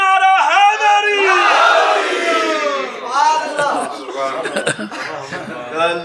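A crowd at a religious gathering loudly shouts the Naara-e-Haidari slogan in unison, a sustained roaring chant that breaks into scattered voices and laughter.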